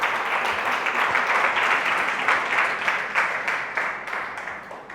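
Church congregation giving loud applause during a sermon, dense steady clapping from many hands that holds for several seconds and gradually eases off.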